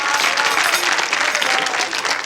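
Sustained applause from a comedy club audience as a volunteer is called up on stage, a thick, continuous patter of many hands clapping at a steady level.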